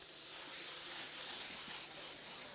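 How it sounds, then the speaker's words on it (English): Aerosol or airbrush paint spraying flame effects at different angles, a steady, close, continuous hiss lasting throughout with slight swells in intensity. "I can spray at different angles to get a desired effect I want."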